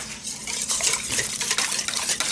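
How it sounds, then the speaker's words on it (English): Milk, eggs and butter for a chocolate cake are stirred around in a bowl, giving a busy, close mix of wet swishing and light utensil clinks against the sides. "I have my milk and my eggs and my butter in here, so I'm kind of stirring it around."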